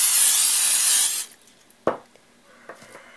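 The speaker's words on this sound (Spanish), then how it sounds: "Yo voy a utilizar un poquito de aceite vegetal en spray." Vegetable oil cooking spray hisses onto a gelatin mold in one loud, close burst lasting about a second, followed by quiet handling clicks and a light knock.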